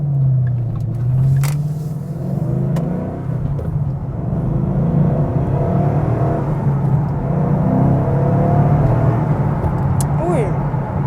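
A Ford Mustang RTR with Brembo brakes driving and accelerating, a steady engine rumble and whir rising in pitch under continuous talking inside the car.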